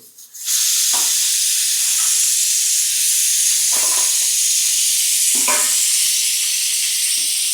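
Garlic fries in hot oil on a stove with a loud, steady sizzle that starts abruptly and keeps going, broken by a few faint clinks of a spoon.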